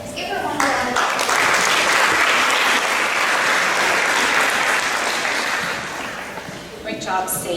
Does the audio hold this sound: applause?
yes